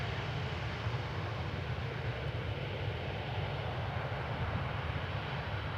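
Airliner arriving at Amsterdam Schiphol Airport, a steady loud roar of jet engines rumbling continuously with no breaks, heard close and without any talk over it.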